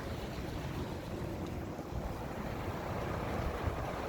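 Steady broadband whooshing of an old box fan running in reverse, continuously close to the microphone, with no talking.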